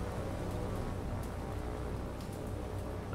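A rain squall in the War on the Sea naval video game: steady, dense rainfall hisses at low level, with scattered droplet patters over a deep rumbling bed and no voices.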